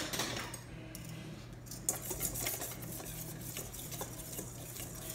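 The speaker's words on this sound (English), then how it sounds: "Okay, I need to stir this together." Brownie batter is stirred in a bowl with a steady, faint scraping and light clinking of a utensil, continuous and close throughout.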